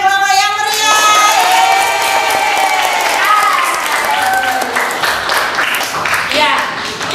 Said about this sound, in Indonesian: Tepuk tangan untuk 3 kelompok yang meriah.